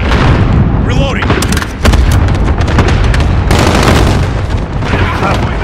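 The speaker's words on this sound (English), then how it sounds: "Allied cluster strike inbound." Repeated booming blasts of a cluster strike in Call of Duty Modern Warfare domination, dense and loud, rolling one after another with gunfire crackle and radio chatter in the background.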